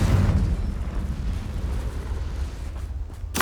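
Fiery spell blast from the Confringo curse in Hogwarts Legacy, a deep booming explosion with a heavy low rumble that rolls on and fades, then a sharp crackling burst at the very end.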